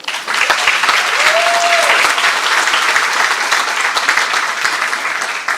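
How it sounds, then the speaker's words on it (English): Loud, dense applause from a high school hall of fame induction crowd greeting a congressman, starting abruptly and holding steady throughout, with a brief whistle rising above the clapping early on. "You could clap for that."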